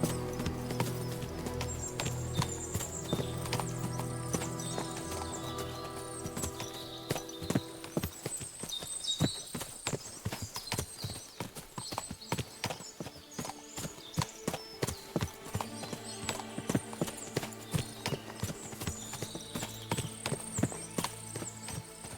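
Horse hooves clip-clop steadily on the ground in Kingdom Come Deliverance 2, a crisp rhythmic trot that grows sharper and more distinct after the first few seconds, set against soft background music.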